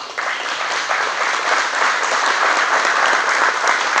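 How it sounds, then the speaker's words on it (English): A room at a hydrogen panel expo applauds the GenCell team with steady, dense clapping from many hands that holds an even level for the whole stretch, with no voices rising above it. "So can we give everyone on GenCell a big round of applause?"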